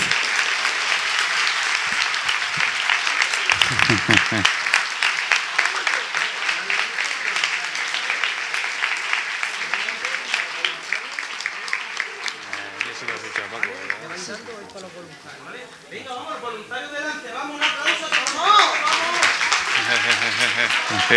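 Sustained audience applause at an anniversary gala of the Francisco Munuera Foundation, steady rapid clapping that briefly dips and then swells again, with voices speaking over it at times.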